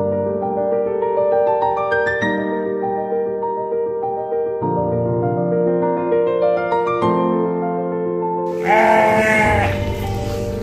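Texel cross sheep at a sheep trading centre in Wonosobo bleat continuously, with several loud, overlapping sustained cries that swell toward the end, close by and with no talk.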